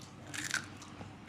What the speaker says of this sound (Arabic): قرمش